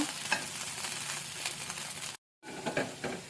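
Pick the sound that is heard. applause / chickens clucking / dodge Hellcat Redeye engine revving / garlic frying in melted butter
garlic frying in melted butter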